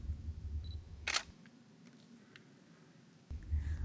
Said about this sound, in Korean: 가쁜 숨을 가다듬으며 셔터를 누릅니다